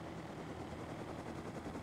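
A helicopter flies in the video game Rust, its rotor producing a steady, dense thrumming drone that stays loud and even throughout with no talk over it.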